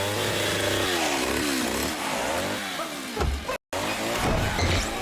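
A chainsaw-wielding creature from the horror movie V/H/S, its engine snarling and revving in rising and falling sweeps, loud and close, with a brief cutout near the end before the whine resumes.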